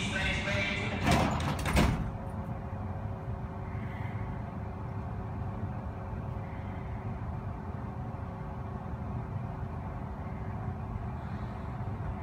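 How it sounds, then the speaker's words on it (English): A brief mechanical clatter and thud as the sliding doors of a Heathrow Express train shut, followed by a steady low rumble of the idling train. "The doors are now closing."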